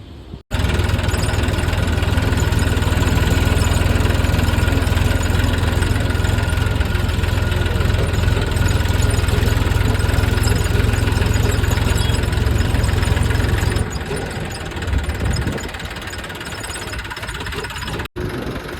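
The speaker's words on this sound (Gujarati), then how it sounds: "જઈએ ટ્રેક્ટરમાં હવે" A tractor engine idles steadily and loudly with a low rumbling drone for most of the time, then drops to a lighter, uneven run near the end.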